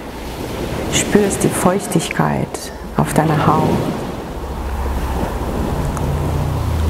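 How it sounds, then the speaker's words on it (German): Ocean surf roars and crashes steadily below a large rock, a dense continuous wash of waves with wind, under a calm German-speaking voice that fades out, leaving the surf alone. "Unter dir tosen die Wellen und du hörst die Brandung"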